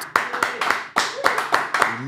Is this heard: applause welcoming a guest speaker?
yes